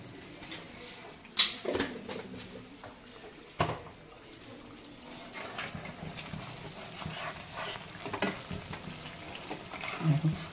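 Pabda fish frying in oil in a pan, with soft sizzling and occasional stirring and scraping clatter, including a few sharper knocks, close by and fairly quiet throughout.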